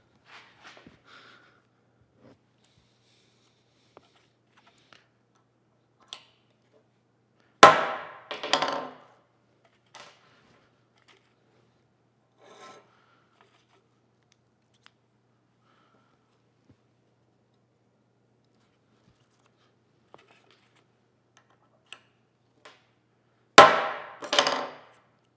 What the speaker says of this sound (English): You pull this one out, you put the center punch in, and that lines that up right on the mark